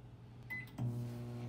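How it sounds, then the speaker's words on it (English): An 1100-watt high-powered microwave oven runs with a Tupperware pressure cooker full of beef stew inside. A steady, close electrical hum starts abruptly partway in and holds level, with no voices. "30 minutes in the microwave."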